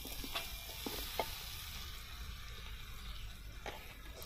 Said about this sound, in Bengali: তারপর এতে দিয়ে দিচ্ছি ভিন্ডি